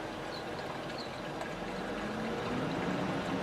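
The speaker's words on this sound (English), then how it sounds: "You might be able to hear it draining in there." Water drains into a pipe during priming of a backyard swimming pool pump, a steady rushing, trickling wash that holds level throughout with no voices.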